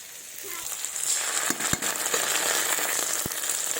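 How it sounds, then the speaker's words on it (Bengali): A paste of ground dried chili, ginger and cumin hits a hot pan of chopped tomato for a fish curry with brinjal, setting off a continuous close sizzle with a few sharp pops and clicks. "এর মধ্যে মশলাটা দিয়ে দেবো।"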